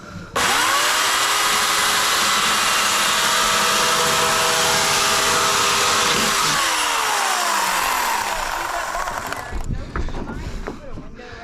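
A chainsaw roars loud and close for several seconds, its engine pitch dropping as it bites into a foam ICF block, then cuts off abruptly.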